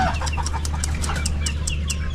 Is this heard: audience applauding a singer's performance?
no